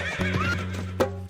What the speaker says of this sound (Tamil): குதிரை வருது பாருங்க, அது குதிச்சு வருது பாருங்க.